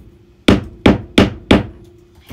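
A hammer drives pins into cork on an OO gauge model railway layout, rounding a corner: four sharp, close blows in a steady rhythm with short pauses between them, and no talking.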